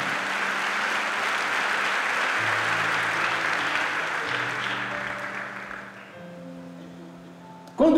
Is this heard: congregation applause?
yes